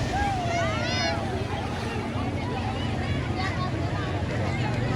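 Steady roar of sea waves and surf at Alibag beach, Maharashtra, with wind buffeting the microphone, while voices and whistling calls carry over the top.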